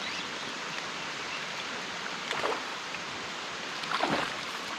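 Rain pouring down beside a huge waterfall in Tennessee makes a dense, continuous hiss, with two brief swells of louder splashing partway through and no voices.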